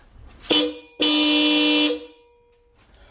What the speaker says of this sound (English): Man, I'm scared to use those horns.